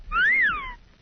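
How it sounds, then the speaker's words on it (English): A man gives a two-note wolf whistle, a rising then falling glide lasting about a second, clear and close with no talk over it. "First, I'm going to do the pretty girl whistle."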